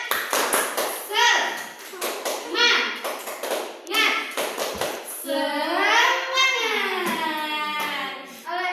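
A class of children performs the tepuk semangat rhythmic spirit clap, sharp clusters of hand claps in a set pattern, then breaks into a long drawn-out group shout at the end.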